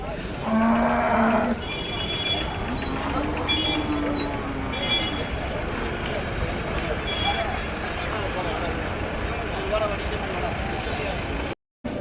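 Cattle and young bull calves at a native-breed cattle market in Kundarapalli, with a loud moo near the start and further lowing over a busy crowd murmur, vehicle noise and indistinct talk throughout.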